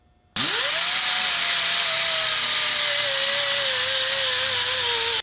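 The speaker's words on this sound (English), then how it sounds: "I clean up the housing with a die grinder" Die grinder cleaning up an off-road axle housing: the motor spins up abruptly and holds a loud, steady high whine, its pitch dropping slightly under load, close and continuous with no talking.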